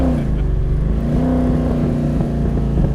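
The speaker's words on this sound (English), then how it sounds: "Oh, that nice little burble on the downshift." A 2020 Superformance Cobra R's V8 engine burbles and rumbles on a downshift, a deep, steady throbbing exhaust note heard close and fairly loud without talk.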